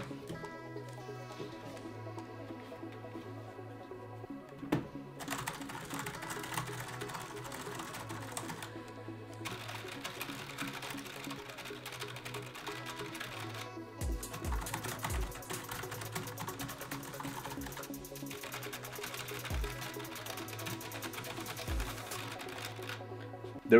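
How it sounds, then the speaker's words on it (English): Keys of a Logitech G915 wireless mechanical gaming keyboard clatter in quick, busy bursts of typing, separated by short pauses; the clicks are close and crisp over a faint background hum. "it is still clicky, as you can take a listen."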